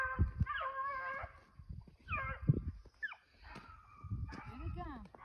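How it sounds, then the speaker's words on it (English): A working dog outdoors in a field lets out a few short barks mixed with high whining yelps, close and intermittent over several seconds. "There's my pup."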